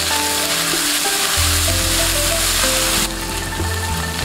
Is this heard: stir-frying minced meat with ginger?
yes